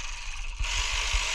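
A ratchet tightens the bolt holding the AC hoses on a 2002-2008 Pontiac Vibe during compressor replacement, giving a few quick, close mechanical clicks over a steady background hiss.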